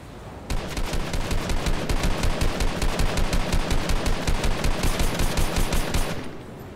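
Sustained automatic gunfire in the video game Fortnite, a rapid, steady burst of evenly spaced shots running for about six seconds at close range, loud and alone without talk.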